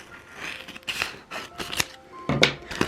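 Scissors snip through a piece of shoe box cardboard in a series of short, crisp cuts, close by and irregularly spaced, with faint handling rustle between them.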